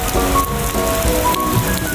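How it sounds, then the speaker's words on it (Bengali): Heavy rain pours down outdoors, a dense, steady, loud patter close by with no voices. "এদিকে বৃষ্টি পড়ছে খুবই জোরে।"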